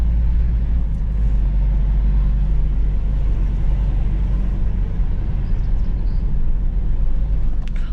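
A Suzuki Vitara 4x4 with a 1.9 diesel engine drives off-road on a narrow, damp trail, giving a loud, constant deep rumble close to the microphone that sounds like a bulldozer.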